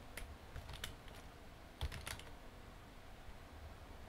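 Light typing on a computer keyboard while entering a name in a design program, a few quiet clustered key clicks with pauses, close but faint under low room noise.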